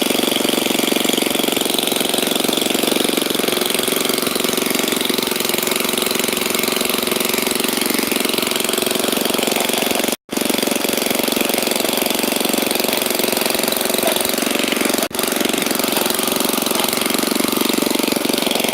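A garden tiller's small engine runs steadily at speed, a loud continuous droning chug that holds throughout with one brief dropout midway, no voices present.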